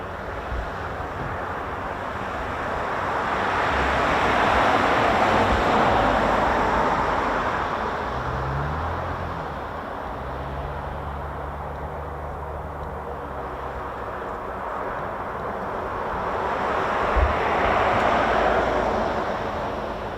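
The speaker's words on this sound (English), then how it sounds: "That distinctive sound of the Rolls-Royce A2100s." Four Rolls-Royce turboprop engines of a US Air Force MC-130J at RAF Mildenhall, a broad continuous roar swelling and fading as the aircraft passes at a distance, with wind buffeting the microphone.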